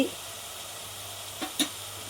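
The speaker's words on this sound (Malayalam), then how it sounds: "നമ്മുടെ ഉള്ളിയും ഒരു രണ്ട് മൂന്ന് വെളുത്തുള്ളിയും ചേർത്തിട്ടുണ്ട് അത് മതി അതിനെ ഒന്ന് വഴണ്ട് വരട്ടെ" Onion and a few garlic cloves sauté in a pan with a soft, continuous sizzle, broken by a couple of brief clinks or stirring knocks near the end.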